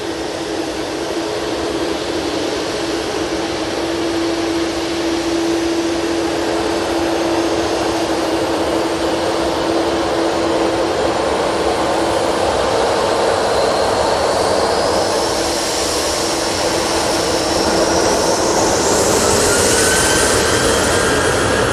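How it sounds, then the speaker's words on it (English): An Etihad Boeing 777-300ER jet airliner passing overhead near Manchester Airport, a loud sustained roar that swells steadily with a rising whine toward the end, no voices. "Going over Stockport now, we do have the Etihad 777-300ER"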